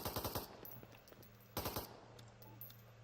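Automatic gunfire in the tactical video game Door Kickers 2, with two loud bursts of rapid shots about a second apart and sparser single cracks between them.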